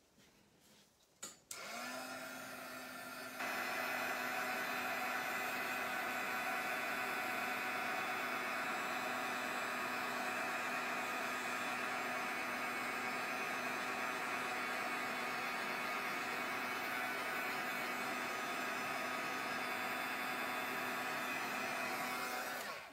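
A heat tool drying crackle paint switches on after a couple of clicks, then runs as a steady, loud blowing whine with a constant tone that holds unbroken for about twenty seconds.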